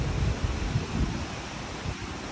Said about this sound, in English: It's too windy to hear anything properly.